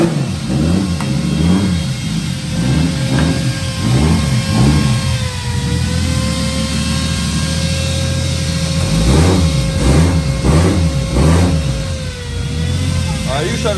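Car engine with a leaking turbo manifold gasket runs and revs repeatedly, with rising and falling surges over a steady idle, close and loud, while people talk over it.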